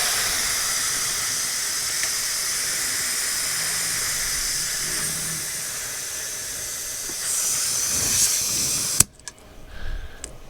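A VEVOR 5-ton air jack raises a car at the pinch weld with a loud, steady hiss of air for about nine seconds. The hiss then cuts off abruptly, leaving a few faint clanks.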